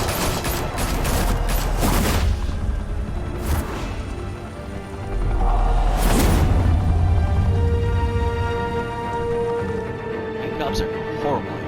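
Gunfire in a Gotham police shootout, loud bursts of volleyed shots in several waves with heavy low rumble, followed by a fading mechanical tail as a voice speaks over part of it.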